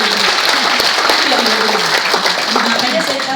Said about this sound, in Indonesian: Tepuk tangan dulu untuk update saya